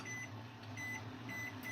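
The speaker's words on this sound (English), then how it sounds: "I got 10 seconds in microwave." Microwave oven running while Ghirardelli vanilla melting wafers heat inside, a steady hum with faint periodic tonal beeps, no talking.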